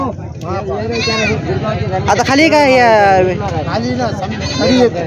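Goats bleat loudly and repeatedly at a large sheep and goat market in Maharashtra, with wavering calls overlapping nearby while someone talks and crowd babble runs underneath.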